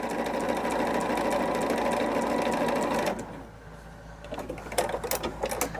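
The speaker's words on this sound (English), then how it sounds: "I'm sewing all of these on." A home sewing machine stitches patchwork pieces together with a steady, close mechanical whir. The whir stops about halfway through, and light clicks and handling noises follow.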